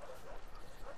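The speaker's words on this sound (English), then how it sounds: "Is that the fucking dog we killed?" A dog in the video game The Last of Us Part II gives short yips and whimpering barks in quick bursts, faint and muffled within the game audio.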